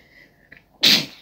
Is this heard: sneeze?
yes